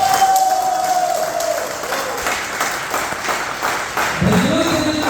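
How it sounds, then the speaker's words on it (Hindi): Loud, steady applause from a crowded hall at a business gathering in Visakhapatnam fills the whole stretch, dense clapping close by with some crowd noise mixed in. "तो संजय सर के लिए जोरदार तालियां।"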